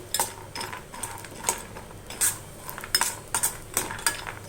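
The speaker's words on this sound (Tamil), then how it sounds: "அதில் ஒரு 50 கிராம் வேர்க்கடலை பருப்பு போட்டுடலாம். போட்டுட்டு இதை நல்லா வறுக்கணும்." Around 50 grams of peanuts roast in a pan for lemon rice, stirred with a metal spoon that makes frequent light scraping clinks and taps over a faint sizzle; no talking.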